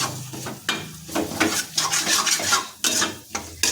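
Chopped tomato is stirred in a pan over low flame for a Bengali jackfruit-and-prawn dish, with repeated scraping strokes of a spatula against the metal and a soft sizzle underneath.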